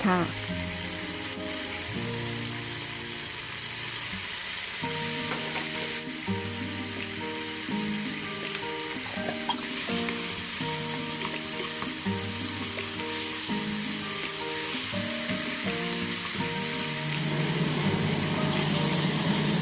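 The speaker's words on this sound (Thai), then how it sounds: "พอผัดจนกลิ่นหอมได้ที่แล้ว ใส่หมูสับลงไปเลยค่ะ" Minced pork hits a hot pan with chili and garlic and is stir-fried, giving a steady loud sizzle that runs throughout under continuous background music with tonal chords.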